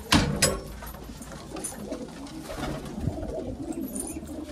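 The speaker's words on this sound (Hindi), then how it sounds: "कोई कोई कबूतर शौक हो रहा है, जैसे कि ये कबूतरी सफेद है, कल शाम को ही पकड़ी है, ये डर रही है।" Pigeons in a loft coo softly and repeatedly after a couple of sharp knocks at the start, with low muffled rustling continuing under the calls.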